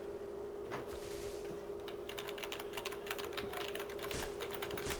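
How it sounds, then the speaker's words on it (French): Rapid clicking of computer keyboard keys, fairly faint, with irregular bursts of keystrokes over a steady background hum. "Oh, on entend des bruits de clavier."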